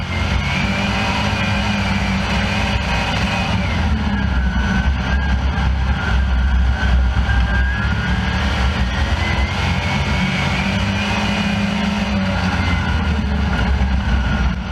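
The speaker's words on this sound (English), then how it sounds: "I want you to really hear the engine" Dirt track race car engine roaring at a speedway as the driver eases off and back on the gas, a loud continuous drone whose pitch sags and climbs in slow waves.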